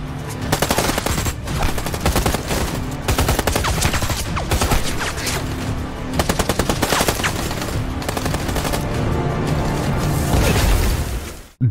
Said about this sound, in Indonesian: Dalam baku tembak yang cukup sengit,